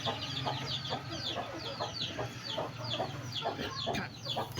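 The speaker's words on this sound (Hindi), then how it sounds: "ये बड़ी मुर्गी है जो बच्चों के साथ है, ये छोटी मुर्गी है" Hens and their chicks cluck steadily and peck at flour scattered for them indoors, a busy run of overlapping short clucks and chick peeps close by, with a low hum underneath.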